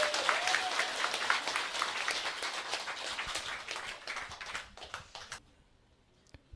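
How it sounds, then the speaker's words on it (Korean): Outdoor crowd applause at a free meal centre in Tapgol Park, Jongno, many hands clapping briskly before tapering off and fading out to near silence. "박수 주세요."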